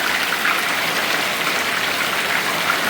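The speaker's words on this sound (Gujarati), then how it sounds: "વરસાદ ચાલુ થઈ ગયો." Steady rain falls in a dense, even patter that fills the whole stretch, loud and close, with no voices over it.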